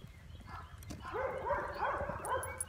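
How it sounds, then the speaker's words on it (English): Several dogs bark outdoors at a moderate distance, with short overlapping yips and barks coming in quick bursts over faint background noise. "Those are dogs."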